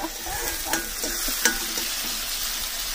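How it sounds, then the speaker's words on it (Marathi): Kanda poha with peanuts frying and being stirred in a pan at a car camping breakfast in the Spiti Valley, a steady close sizzle with a couple of sharper scrape clicks from the stirring, no talk. "कांदा पोहे विथ शेंगदाणा फ्राईड बाय कुंदनी।"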